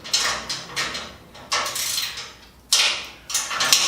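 A wrench or ratchet works loose 3/8 nuts on a bridge crane trolley, giving short metallic bursts and clicks in uneven repeated strokes, close and fairly loud.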